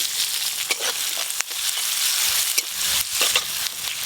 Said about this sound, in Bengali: পেঁয়াজগুলো হালকা করে ভেজে নিয়েছি।